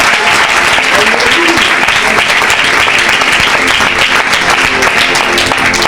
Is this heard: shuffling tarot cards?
no